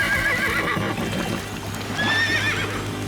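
Felicia the pony from PAW Patrol whinnies in two high, wavering calls, loud and close, over busy cartoon music and effects.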